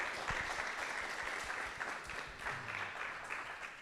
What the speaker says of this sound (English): let's get another round of applause for all of our storytellers